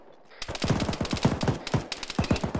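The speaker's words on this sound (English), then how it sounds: "I can hear shots coming from the southeast, but I don't see where" Automatic gunfire rattles in rapid bursts during a video game military operation, loud and close, with several quick volleys separated by short gaps.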